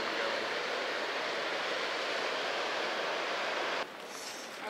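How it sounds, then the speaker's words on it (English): Waterfall in a desert canyon oasis near Moab, Utah: a steady, dense roar of rushing water fills the air close to the microphone without a break, then drops slightly quieter and hissier near the end. "waterfall already, guys."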